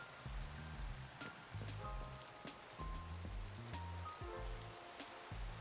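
Minecraft rain falls as a steady hiss under sustained musical tones, with occasional sharper drop-like ticks and no speech.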